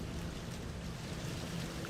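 Steady wind blowing near a bay with trees rustling, a continuous broadband whoosh holding at an even level throughout with no voices.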